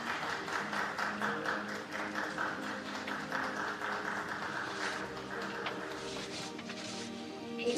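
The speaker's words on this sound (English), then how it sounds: "let's congratulate the athletes with big applause" An audience applauds athletes at the Tokyo Marathon 2021 women's elite award ceremony, with a steady wash of moderate clapping under faint background sounds that lasts throughout.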